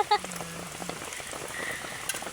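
Rain falling outdoors near a house, a soft, steady patter of drops on surfaces with a few sharper taps near the start, faint and continuous with no talking.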